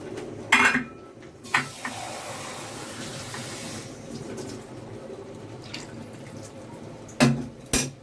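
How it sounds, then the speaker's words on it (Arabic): Water poured into a pot of simmering beans in tomato sauce, a running pour under kitchen clatter, with sharp metal clanks of pots and utensils at the start and end. "كده خلاص بقى اللوبيا بعد ما تسبكي دلوقتي هزود لها ميه"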